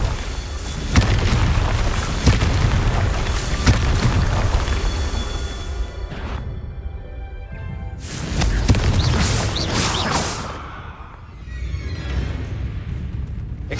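Repeated booming blasts from the Confringo blasting spell in a Hogwarts Legacy VR game, several loud explosive bursts with rumbling decay between them, close and prominent with no talking.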